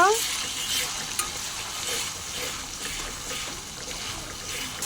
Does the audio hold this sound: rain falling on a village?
no